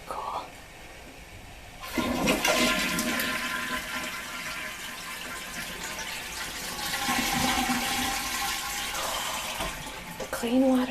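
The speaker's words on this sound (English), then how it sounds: "So you flush with the gray water." A toilet with a sink attachment on its tank flushes loudly with gray water, a sustained rushing and gurgling swirl that starts abruptly and continues for several seconds, close by in a bathroom.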